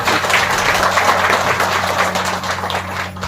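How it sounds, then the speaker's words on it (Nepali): A crowd applauds loudly at a ceremony, a thick continuous clatter of clapping over a steady low electrical hum, tapering slightly toward the end. "एकपल्ट यहाँहरू सबैको लागि जोरदार ताली बजाइदिनु"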